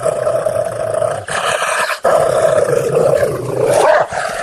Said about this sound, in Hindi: राक्षस बहुत गुर्राया और बहुत चिल्लाया।